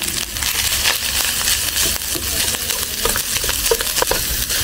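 Garlic fried rice is stirred in a hot pan, with a steady loud sizzle and repeated scraping and crunching strokes of the spatula close up.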